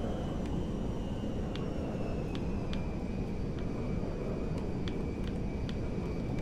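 An airplane comes in to land in Transport Tycoon with a steady, even engine drone and a faint high whine, dotted with light ticking clicks.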